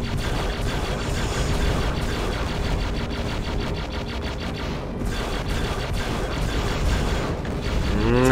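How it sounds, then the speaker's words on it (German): Rapid mechanical clattering bursts of a cannon firing repeatedly in a Star Wars Episode III video game, with a rising rumble toward the end. "Ich muss auch darauf achten, dass die Kanone nicht überhitzt."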